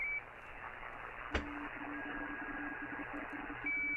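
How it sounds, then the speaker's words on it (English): A radio teletype signal, two tones 170 Hz apart, comes through a receiver as a faint steady warbling beeping pattern over hiss, with a brief click and a constant carrier tone at the edges. "So it's always 2 tones, 170 hertz apart. We call these deedles, because that's what they sound like."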